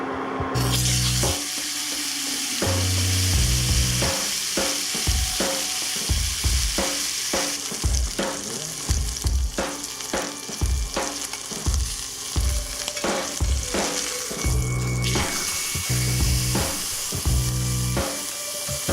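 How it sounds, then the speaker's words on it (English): Steak sears in a hot pan on a Tramontina single-burner electric induction unit, with a constant loud sizzle and repeated scraping, knocking utensil strokes against the pan throughout. "so let's see you cook some steak"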